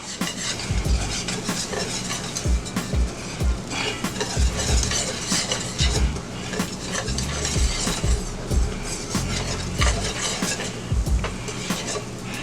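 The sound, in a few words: mixing flour into butter to make a roux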